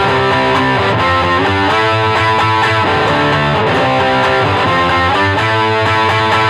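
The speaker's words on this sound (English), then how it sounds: "And high gain equal overdrive or distortion." Electric guitar played through an amplifier set to high gain, giving a thick, sustained overdriven distortion. It sounds loud and continuous for the whole stretch, with chords ringing out and no voices.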